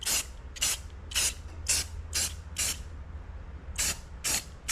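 Rust-Oleum high performance enamel sprayed from an aerosol can onto a pulley in short, sharp bursts, about eight close hissing puffs in a steady rhythm with a brief pause midway.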